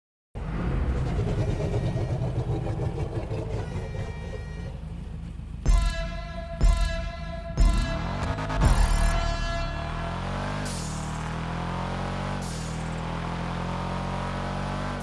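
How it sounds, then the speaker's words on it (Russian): The fully tuned Karin Sultan Classic in a video game roars loudly as it accelerates, its engine pitch climbing steadily and then dropping sharply with each gear shift, repeated several times before settling into a sustained drone. "При этом тачка так ревет мотором, что он того и гляди выпрыгнет из-под капота и убежит в прерии."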